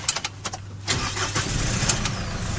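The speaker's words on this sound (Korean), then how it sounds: "차량 시동을 킨 다음" A Hanseo multipurpose fire-fighting truck, model 1500PNS, cranks with a run of rapid clicks and whirs, then its diesel engine catches and settles into a loud, steady, rumbling idle close by.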